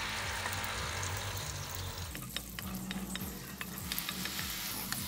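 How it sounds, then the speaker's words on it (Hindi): Two large onions dropped into oil left over from frying okra, a continuous bright sizzle with a low rumble beneath and a run of regular scraping stirs in the second half, no speech. "अब प्याज को अच्छे से ना भून लेते हैं।"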